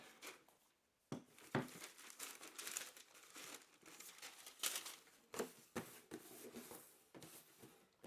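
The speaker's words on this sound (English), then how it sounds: "peeling back that wrapping paper" Wrapping paper crinkles and rustles as it is peeled back inside a Nike shoe box, with irregular bursts of crumpling and tearing close up, no speech.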